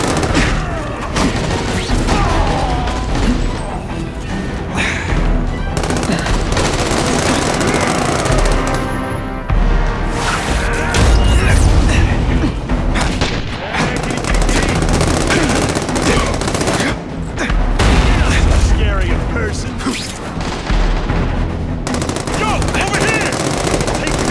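Gunfire in The Amazing Spider-Man 2 video game: sustained bursts of automatic weapon fire and booming shots run nearly nonstop at loud, dense level, mixed with mechanical clatter and game effects, with speech at points.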